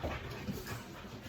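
Dogs whimper and pant indoors in a brief, faint snippet, soft whines and breathy panting sounds over a hissy background.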